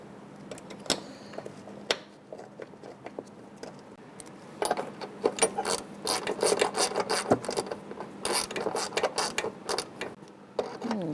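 A ratchet clicks in short bursts while snugging a brake line bracket on a 2000-2007 Ford Taurus during a front brake hose replacement, with metallic tool clatter around it, close up and gaining pace toward the end, no voices.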